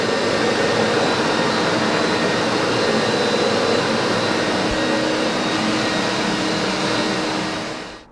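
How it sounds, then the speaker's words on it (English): A scrubber dryer floor cleaning machine runs with a loud, steady broadband roar like a vacuum motor, holding constant for several seconds before cutting off abruptly at the end. "this is the bottom of the scrubber dryer that we were just cleaning with"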